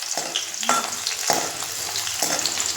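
Food frying in well-heated oil for a curry crackles and sizzles steadily, with a few sharp bursts as pieces are stirred, close and alone without any talk.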